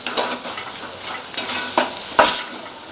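Three spice masalas lightly sautéed in a pan for egg gravy: soft oil sizzle with repeated scraping and stirring strokes of a spoon against the pan, close and clear, with no voices.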